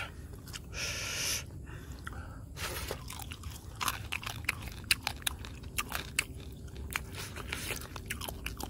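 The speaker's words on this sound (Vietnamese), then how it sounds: "Đang nhai quá trời." Close, wet chewing and crunching of spicy grilled frog with chili, ginger and lemongrass, eaten on a rainy day, with irregular bites and mouth noises over a steady low background hiss.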